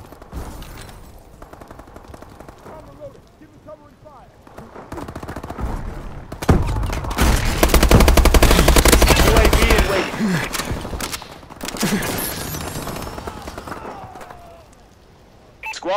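Automatic rifle and machine-gun bursts in a Call of Duty: Advanced Warfare firefight, loud sustained rattling in the middle stretch with scattered shots and thumps before and after, mixed with game radio voices.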